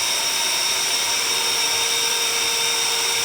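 A Bosch cordless power tool with dust extraction, spinning up against a mock-up wall, gives a steady loud high-pitched whine that holds constant throughout.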